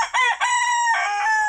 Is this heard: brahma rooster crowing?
yes